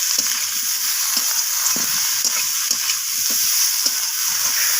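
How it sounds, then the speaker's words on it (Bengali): Mourola fish and vegetables fry in a pan for onion-stalk jhal, a steady bright sizzle running throughout with soft repeated scraping knocks as the mixture is stirred, close and continuous with no talking. "তো মাছটাকে দিয়ে আমি সব কিছুর সাথে এইভাবে নাড়াচাড়া করে কষিয়ে নিচ্ছি।"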